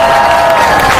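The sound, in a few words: applause from a rally crowd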